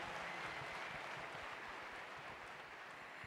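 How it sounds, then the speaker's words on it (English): An audience at an ANC election rally applauds the Mandela family, a dense, even wash of clapping heard faintly from a distance. "Let's give them a round of applause, ladies and gentlemen."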